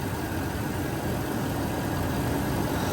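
A Land Rover Range Rover engine idles with its coolant system opened for a head gasket check. The running motor gives a steady, dense broadband rumble at constant loudness, with no talk.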